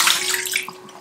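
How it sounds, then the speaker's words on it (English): Filtered water pours and splashes over soaked cashews being rinsed in a kitchen, a close, loud, steady rush of running water. "So rinse out with clean filter water."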